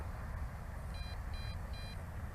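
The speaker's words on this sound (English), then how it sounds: "It just went into the first phase of low voltage return to home, in which it will beep 3 times." A JJRC X8 GPS quadcopter gives three short, evenly spaced high-pitched low-voltage warning beeps for return to home, faint above a steady rushing hum of motors and wind.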